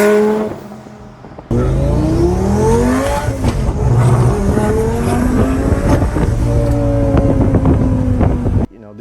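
Twin turbo Lamborghini Gallardo Superleggera accelerating hard close by, a loud roaring engine with wind buffeting and sharp blow-off valve pops and flutters between gear changes, cutting in suddenly and dropping away at the end.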